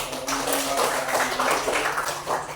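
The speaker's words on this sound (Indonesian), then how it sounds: "Kita beri aplaus dulu" Audience applause rises quickly and continues as a steady patter of many hands clapping, fading slightly toward the end, with no talk over it.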